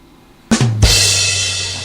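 A Twitch stream alert chimes in abruptly after half a second of quiet, a bright layered burst with a low tone that swells and then rings out steadily, loud and alone.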